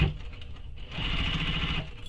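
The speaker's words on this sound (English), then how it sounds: "And I'm going to stitch that closed." A sewing machine stitching a fabric shoulder bag's pocket closed: a soft, steady whirring run of stitches lasting about a second after a brief quieter start, heard alone at moderate, fairly close level.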